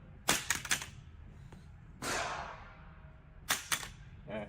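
A handgun fitted with a red dot sight is thrown and strikes a hard surface, giving several sharp clattering impacts in small clusters, fairly quiet and close, with no talk.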